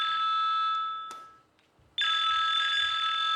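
A telephone rings with a bright electronic trill, one burst fading out, then a brief pause before the next loud ring begins, heard alone with no talk.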